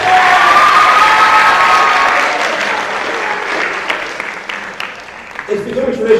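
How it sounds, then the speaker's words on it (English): An audience at the 2023 BMB awards ceremony applauds loudly, sustained clapping that gradually thins and softens toward the end. "give him a round of applause"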